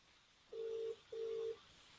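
A telephone ringback heard over a Zoom call, two even tones of about half a second each with a short gap between, faint and thin.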